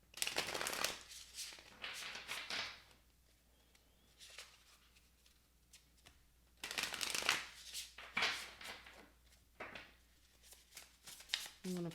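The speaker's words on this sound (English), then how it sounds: "I'm going to pull some cards here" Tarot cards are shuffled in repeated riffling bursts, crisp papery flutters separated by quieter pauses, close and clear, with a voice speaking softly between them.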